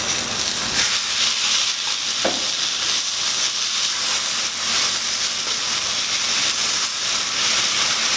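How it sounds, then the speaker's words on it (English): Tomato sauce poured into browning rice for Mexican rice sets off a loud, steady, hissing sizzle with rising steam that fills the whole stretch, close up and with no talking. "I'm going to go ahead and put in my 8 ounces of tomato sauce"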